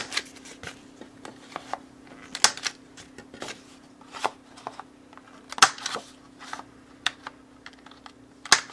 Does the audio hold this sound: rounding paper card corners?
yes